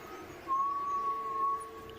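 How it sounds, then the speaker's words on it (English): A single thin, steady whistle tone in a horror video game holds for about a second, faint and distant over a quiet background. "The only presence felt is a subtle whistle in the distance"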